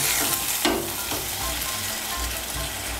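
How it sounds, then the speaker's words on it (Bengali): Water poured into a pan of lightly fried papaya pieces for a Bengali vegetarian dish, setting off a loud, steady sizzle and bubbling close up, with no talking. "এই দেখুন, পেঁপেটাকে আমি একটু ভেজে নিয়েছি। এর মধ্যে এখন আমি জল দিয়ে দেব।"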